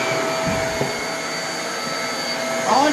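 A vacuum cleaner hums steadily at close range, a constant whine with a slight rise in pitch near the end.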